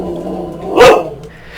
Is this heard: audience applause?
no